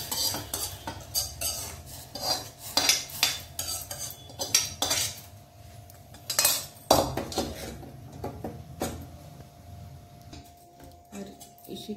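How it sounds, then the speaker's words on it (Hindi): Vermicelli (sevai) goes into a pan, with busy metallic clatter and scraping of a utensil against the cookware, repeated bursts close up and moderately loud, no talk. "सेवई को मैं ऐड करूंगी।"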